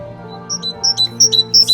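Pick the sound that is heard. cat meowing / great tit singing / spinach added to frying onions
great tit singing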